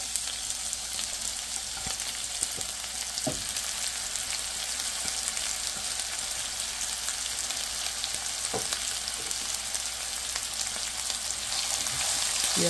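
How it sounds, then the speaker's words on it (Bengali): Marinated meat frying in a pan with little oil, onions about to go in, a steady close sizzle throughout with occasional soft scrapes of stirring. "এখন পেঁয়াজটা দিয়ে দেবো।"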